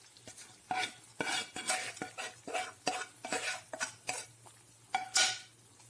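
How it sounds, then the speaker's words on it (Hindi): Semolina roasts in ghee for suji halwa as a spoon scrapes and stirs around the pan in quick, irregular strokes, quiet and close, with no talk. "इसे हम बहुत अच्छे से भूनेंगे।"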